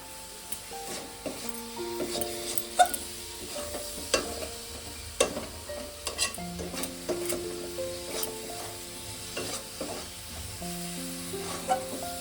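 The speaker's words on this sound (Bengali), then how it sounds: "আমি আর একটু নেড়ে আর নাবিয়ে নেব" A chhana and coconut sandesh mixture is stirred in a pan on the stove with a utensil, producing repeated scraping strokes over a soft sizzle and light clinks, close and steady with no voices.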